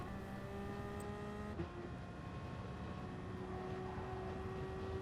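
A Toyota TS050 Gr.1 prototype race car in Gran Turismo Sport on the Nürburgring GP circuit, a steady sustained engine drone with held tonal pitch that shifts slightly midway, distant and fairly quiet.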